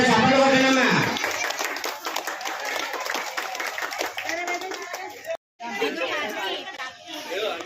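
A crowd at a mass Saraswati puja for Vasantha Panchami claps together in a dense burst of applause, mixed with lively chatter and voices.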